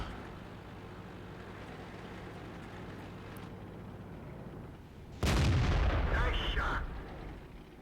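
Artillery fire in the tank game World of Tanks: a steady, low battle din gives way to one loud, sudden blast that rings out for about a second and a half before fading.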